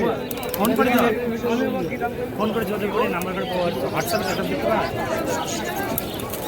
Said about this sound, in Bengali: এই যে হাট থেকে পায়রা উড়িয়ে দিল